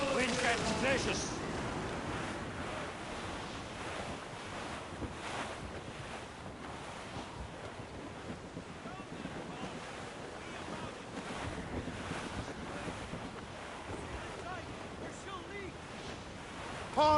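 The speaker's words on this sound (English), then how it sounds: "Wind's getting vicious." Strong, steady wind and crashing ocean surf at sea in Assassin's Creed: Rogue, a continuous roaring wash with no clear pauses, with no talk.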